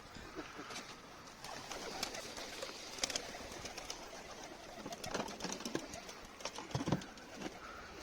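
Pigeons kept as pet birds cooing softly at a distance against a steady outdoor hiss, with scattered faint clicks and taps.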